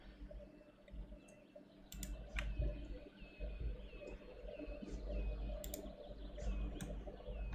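Soft computer keyboard typing heard faintly in a room, with scattered irregular key clicks over a low background hum and no voices.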